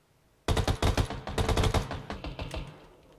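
Rapid bursts of video game gunfire crackle loudly and close during a live-streamed shooter match, with no talk over the shots, thinning out and trailing off toward the end.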